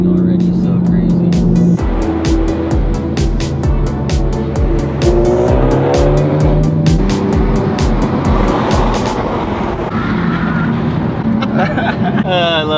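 A Ford Focus driven hard on unfamiliar roads roars close and loud, its engine note climbing and dropping through gear changes amid squealing tires, with people talking excitedly over the engine noise.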